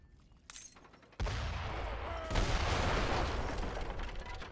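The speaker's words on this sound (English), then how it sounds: "These are howitzers, don't forget" Howitzers fire in a strategy video game: a sharp blast, then heavy rumbling barrages that swell and layer into continuous booming explosions, loud and close.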